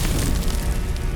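A Confringo explosive spell bursts in Hogwarts Legacy, a dense, loud roaring blast of broadband noise with heavy low rumble sustained for about a second.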